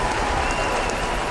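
A crowd applauds in a cutscene from the Spider-Man (2000) video game, dense continuous clapping that fills the short moment at steady loudness with no voices over it.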